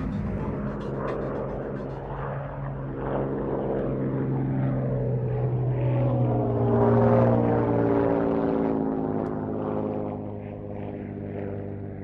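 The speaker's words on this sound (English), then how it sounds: "The harmony of the Bristol Mercury engine of the Gladiator and the Rolls-Royce Kestrel 2S on the Fury" A Hawker Fury with a Rolls-Royce Kestrel 2S and a Gloster Gladiator with a Bristol Mercury fly by together at an airshow, their blended radial and inline engine drone swelling loudly as they pass, then easing away.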